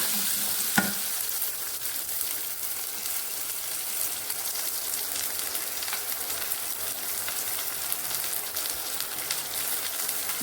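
Shallots and tamarind being sautéed in a pan, a dense continuous crackling sizzle that holds steady and loud throughout, with one sharp utensil knock near the start.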